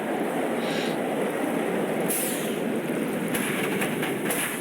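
A roller coaster train rolls into the station in the NoLimits 2 game, a steady, moderately loud rumble of wheels with faint clicking and brief hissy swells, continuous and near.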